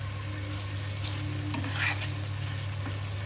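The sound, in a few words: fried potatoes added to fish curry, sizzling in pan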